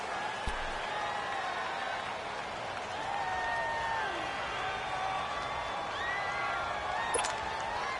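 Stadium crowd roaring steadily at a football game, a sustained wash of cheering and noise from the stands that stays loud throughout with faint voices mixed in.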